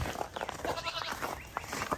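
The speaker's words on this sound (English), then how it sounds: "let's go feed the goats" Several goats bleat in quick, overlapping bursts close by, a busy chorus of short nasal cries with some rustling around them.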